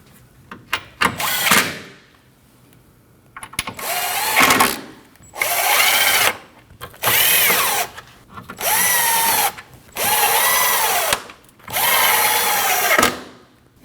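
A power tool drives bumper bolts under the front of a 2013-2019 Ford Escape, whirring loudly in six or so sustained bursts of a couple of seconds each, separated by short pauses, after a few quick clicks and brief rattles.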